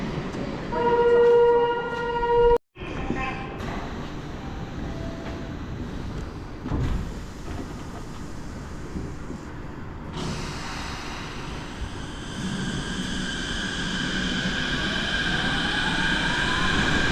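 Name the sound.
Chiba suspended monorail train running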